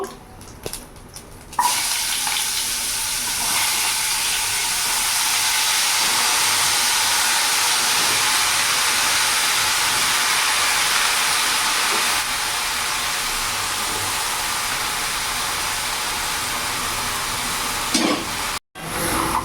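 Chopped bottle gourd goes into a pan over a black cumin and dried chilli tempering on a medium gas flame, then is stirred. A loud, steady steaming sizzle starts abruptly and runs almost unbroken, with a brief cut just before the end.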